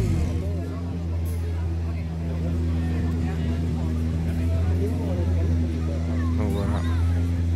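Rally car engines idling and droning steadily at a roadside spot on the Rallye Monte Carlo stage near Digne-les-Bains, a continuous low hum with crowd chatter and babble throughout.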